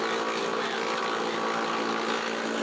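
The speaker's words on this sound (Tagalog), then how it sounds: "ipinakita rin sa amin ni Sir Chutico kung papaano kinakat yung napier grass gamit itong machine na ito" A grass-cutting machine chops napier grass in a steady, dense mechanical whir. The loud engine hum and buzzing blades hold constant throughout, with no pauses.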